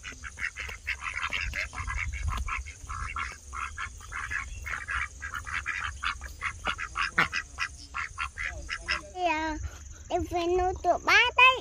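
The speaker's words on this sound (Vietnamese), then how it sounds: "Hai vịt chống chiến nhau." Two ducks squabble and fight, letting out rapid, choppy quacks that build into louder, drawn-out honking calls toward the end, with insects faintly chirping behind.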